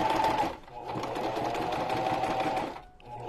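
A sewing machine stitching a junk journal cover runs in a steady whirring burst, briefly pauses, then runs again and stops near the end, close and moderately loud.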